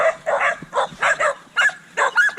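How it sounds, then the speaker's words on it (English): Several dogs barking outdoors in a rural workshop yard, a quick series of close, loud yips and barks in uneven bursts with short pauses between them. "if you could only hear me over the dogs barking"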